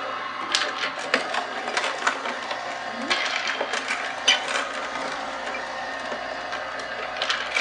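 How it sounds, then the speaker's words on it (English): A nut-butter style grinding machine, not a cylinder food processor, presses almonds into paste with a steady mechanical whir full of fine crackling and clicking. "As you can see, the almonds are coming out in a paste right here."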